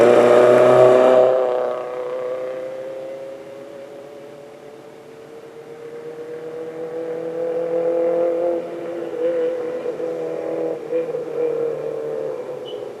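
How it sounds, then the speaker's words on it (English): A yellow Vauxhall Nova rally car sweeps past at speed on a Lombard Rally stage, loud as it passes close, then fading as it moves away, before its engine note climbs and drones again in the distance. "Followed by the yellow Vauxhall Nova of Lee Valentine."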